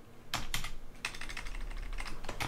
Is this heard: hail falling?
no